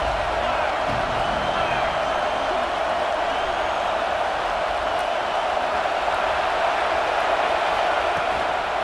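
Dense stadium crowd roar at a USC vs Ohio State college football game, a steady loud wash of cheering and shouting that holds throughout with no pauses.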